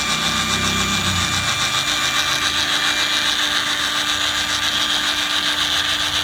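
A Milwaukee M18 FUEL pipe threader runs steadily in reverse as its die spins back off black iron pipe, giving a continuous close motor whine with a metallic grinding undertone.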